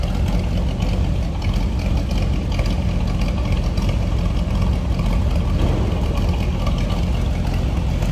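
A 1964 Chevrolet Impala two-door hardtop idles steadily from behind the car, a continuous, fairly loud low rumble that holds an even rhythm throughout with no talking.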